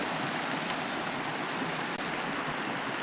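A mountain stream rushes steadily nearby, a dense, unbroken wash of flowing water at even loudness throughout.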